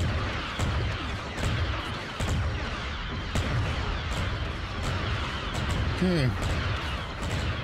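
Artillery fires repeatedly in a Star Wars Empire at War battle, with booming blasts thudding at irregular intervals over a rumbling battlefield din. Someone talks over the barrage.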